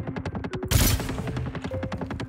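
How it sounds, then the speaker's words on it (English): Rapid bursts of gunfire in the sci-fi game Star Citizen, close and loud, with one heavy blast partway through and quick repeated shots rattling on around it. "Wait, is that a hostile fire or friendly?"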